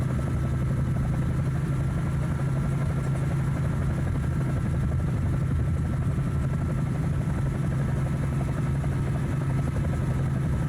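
A helicopter in Microsoft Flight Simulator 2024 banks into a left turn, its rotor thumping in a steady, loud, continuous drone close by with no talk over it.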